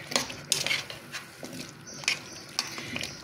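Utensil stirring vegetables and tripe frying in a pot, repeated scraping and clinking strokes over a soft sizzle, close and moderately loud.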